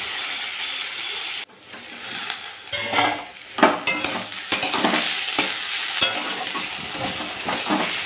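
Ivy gourd (kundru) frying in a pan, a continuous sizzle broken by a sharp lid or pan sound, then repeated scraping strokes of a spatula stirring the pieces, close and fairly loud, with no talking.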